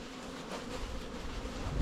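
Honeybees buzz around hives during a spring inspection of newly installed bee packages in nucleus boxes, a steady close droning hum with a faint low rumble swelling toward the end.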